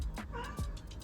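A cat meows nearby in a home kitchen while pastry is being made, giving a couple of short, bright meows over low background noise.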